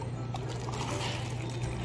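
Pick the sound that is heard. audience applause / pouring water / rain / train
pouring water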